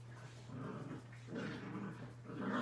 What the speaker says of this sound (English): the dogs might get kicked out in a minute